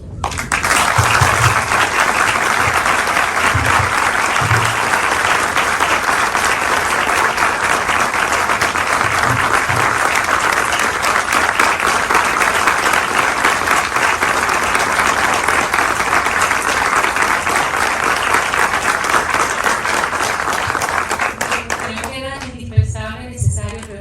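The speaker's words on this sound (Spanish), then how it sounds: "yo quisiera empezar con un gran aplauso" Sustained, loud audience applause at a tribute event honouring a film director, dense clapping filling the room for over twenty seconds before tapering off into scattered claps at the end.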